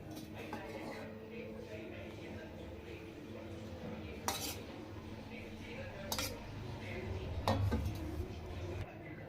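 Chicken being stirred with turmeric, cumin powder and curd for chicken bagara rice, a spoon scraping and clinking against a pot in a few sharp knocks over a soft background, with a voice speaking now and then.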